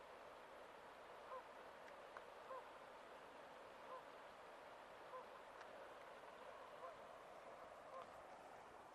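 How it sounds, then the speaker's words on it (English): Faint, distant Canada geese honk now and then over a steady outdoor hiss, their short calls spaced a second or so apart. "Canadian geese."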